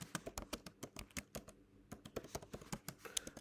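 Computer keyboard keys clatter in quick, uneven bursts of close, crisp taps, with a brief pause midway, while text is entered into WordPress.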